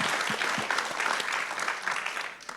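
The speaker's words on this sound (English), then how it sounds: "So give Melissa a round of applause," An audience at a library event honouring women claps warmly. The applause is a dense, moderately loud patter of many hands that runs steadily for nearly three seconds before easing slightly at the end.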